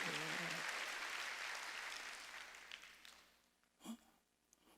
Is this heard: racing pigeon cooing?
no